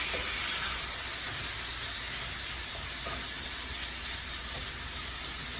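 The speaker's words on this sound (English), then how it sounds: "Just to help steam those carrots." Steady, loud hiss of water steaming and sizzling in a hot pan with carrots, continuous with no talking.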